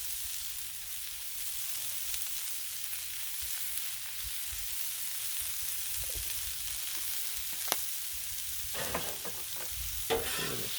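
Corn and bacon sizzle steadily on a Blackstone griddle, a continuous bright frying hiss with occasional spatula scrapes and taps as the food is stirred, with no talking.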